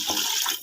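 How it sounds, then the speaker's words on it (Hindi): Water is poured into a pot of bajra khichri, a short, close, rushing splash that fills the pot for under a second before cutting off. "अब हम खुला डुला पानी इसमें डाल देंगे"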